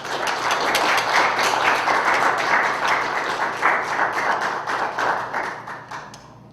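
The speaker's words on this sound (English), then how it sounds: "Give him a round of applause, please." An audience at a peace day event applauds a keynote speaker, a loud, dense burst of many hands clapping that holds steady and then slowly tapers off.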